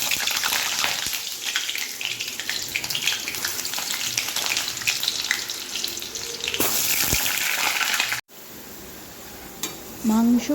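Mutton fries in hot mustard oil with a steady, close crackling sizzle that runs for several seconds before stopping abruptly, followed by quieter kitchen sounds.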